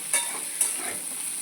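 Eggs frying in oil and being stirred in a pan for a spicy egg curry, giving a steady soft sizzle with two brief scraping stirs, close and alone with no talk.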